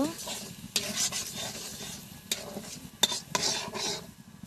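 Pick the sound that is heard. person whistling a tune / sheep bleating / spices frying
spices frying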